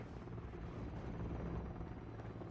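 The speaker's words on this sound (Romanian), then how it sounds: "a venit un elicopter la noi" A helicopter arrives in Call of Duty Modern Warfare III, its dense rotor chop thudding steadily and loudly throughout with no pause, heavy low drone filling the whole short stretch.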